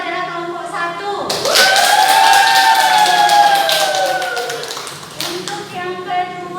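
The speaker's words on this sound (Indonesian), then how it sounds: "beri tepuk tangan untuk yang pertama, terbaik itu adalah kelompok 1" Classroom group claps together in a dense burst of applause, loud and close, rising after a moment and tapering off near the end, with voices talking over the clapping.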